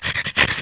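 A cartoon dog pants in quick, breathy huffs, several rapid close bursts in under a second, loud and airy with no talk.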